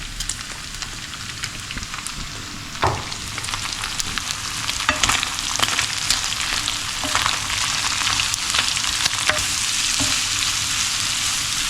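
Peppers, onions and garlic hitting a pan of cooked meat, a dense crackling sizzle that swells after a clatter as they go in and keeps up as a loud, steady hiss with occasional utensil knocks.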